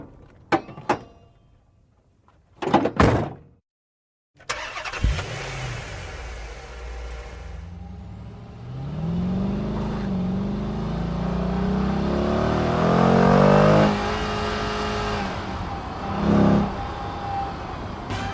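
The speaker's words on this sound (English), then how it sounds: "This is the sound of a 2006 Dodge Charger SRT8." A 2006 Dodge Charger SRT8 V8 muscle car with a five-speed automatic starts up with a few sharp bursts, then revs and accelerates loudly and close, its exhaust rising and falling in a long, sustained roar.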